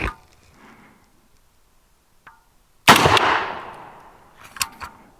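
An unsuppressed supersonic .30 caliber rifle fires a single loud, sharp shot outdoors. A long rumbling echo decays after the blast, with faint clicks before and after.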